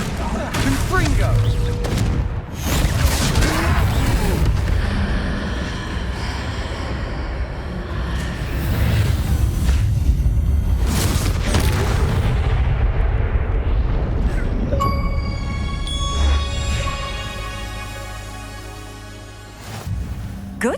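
Repeated Confringo blasting-spell explosions in the Hogwarts Legacy video game during a troll fight, loud booms and rumbling crashes layered over dense game effects and music, with voices speaking over parts of it.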